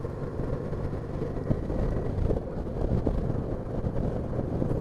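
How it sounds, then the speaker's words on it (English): Strong west wind buffets the rider on a Honda Deauville motorcycle, a steady loud broadband roar with low rumble and gusty swells throughout, no talking. "The wind's going to get quite bad now because it's coming from the west and trying to blow me off"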